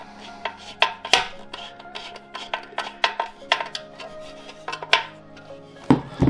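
A hand screwdriver tightens a screw during assembly of a Weber Q1200 grill, giving a series of close, sharp clicks and scraping turns in an irregular rhythm.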